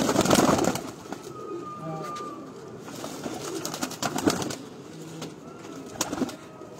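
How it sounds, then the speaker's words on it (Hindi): Domestic flying pigeons kept as pairs coo softly from a rooftop loft, several low calls scattered among rustling and handling noises, with someone talking at times. "ये उड़ने वाले कबूतर हैं ये जोड़े वाले"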